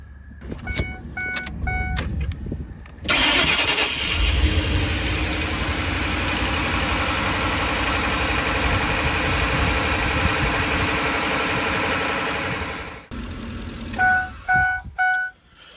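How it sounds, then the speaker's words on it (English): Warning chimes ring before a van engine, suspected of a cylinder 8 misfire, cranks and catches. It settles into a steady, rumbling idle for about ten seconds, then shuts off and more chimes follow. "we'll fire the engine, turn the engine on"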